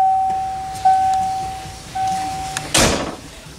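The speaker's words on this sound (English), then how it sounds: "Doors shut nice." A 1986 Ford Mustang Fox Body GT hatchback door shuts with a solid close thunk near the end, after quieter clicks and a faint ringing tone.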